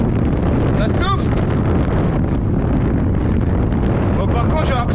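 Loud, constant wind buffets the microphone of a cyclist riding along the seaside near cliffs, a roaring rumble throughout with faint voice-like fragments mixed into the gusts.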